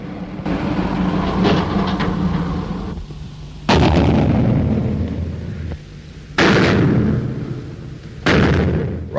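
Heavy underwater explosions rock a WWII submarine, each deep rumbling boom arriving as a sudden loud onset and then slowly fading, with three distinct blasts spaced a few seconds apart over a continuous low drone.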